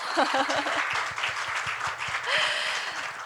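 A crowd at a startup demo day and graduation ceremony applauds steadily with a brisk clapping rhythm, with some voices and a cheer rising briefly over the clapping.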